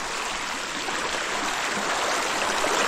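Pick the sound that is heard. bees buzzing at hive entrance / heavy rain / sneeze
heavy rain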